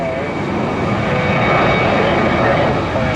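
A jet airliner taxiing at Tampa airport, a loud steady engine roar and whine held close and constant throughout, with a voice heard faintly.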